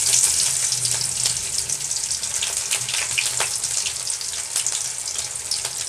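Mustard seeds and onion fry in hot oil with a continuous bright sizzle, close and fairly loud, with faint crackles scattered through.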